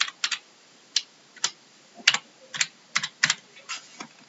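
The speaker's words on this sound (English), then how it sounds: "I'm just going to type anything." Keys clack on a computer keyboard in irregular bursts of single and double taps, close-miked and fairly quiet, with no speech.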